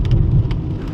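Heavy rain falls steadily outside during a road trip in a VW Golf 5, a loud, close, dense wash of patter with a few sharper drops striking a surface.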